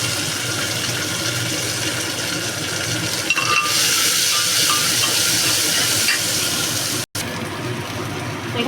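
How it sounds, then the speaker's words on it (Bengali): Chopped onion dropped into hot oil with dried chillies and bay leaf, a continuous loud sizzle and hiss with occasional stirring, cutting out for an instant near the end. "এখন দিয়ে দিল পেঁয়াজ কুচি"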